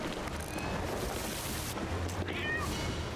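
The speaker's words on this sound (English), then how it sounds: "Oh god, the cat's panicking." A panicking cat on a pirate ship in the game Sea of Thieves gives short, high meows after the ship is rammed, over steady wind and water noise, with a voice talking faintly underneath.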